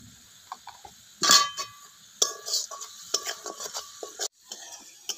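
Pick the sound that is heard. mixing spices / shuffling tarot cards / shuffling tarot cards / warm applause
mixing spices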